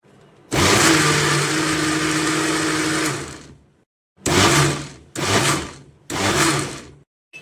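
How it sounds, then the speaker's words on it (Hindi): A kitchen blender whirs loudly as it blends mango with milk powder, sugar and milk: first one sustained run of about two and a half seconds, then three short separate bursts, each stopping abruptly. "अब इसको मैं बहुत ही अच्छे तरीके से ब्लेंड करने लगी हूँ।"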